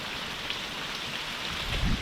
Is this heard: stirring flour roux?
no